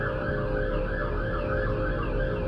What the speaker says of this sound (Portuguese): Vou deixar a ambulância passar